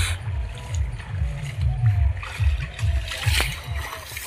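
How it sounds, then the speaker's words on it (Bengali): Fish splash and thrash in the water of a fishing pond, sending sprays of water in repeated bursts close by while people talk over the sloshing. "এই গায়ে জল দিচ্ছে আমার।"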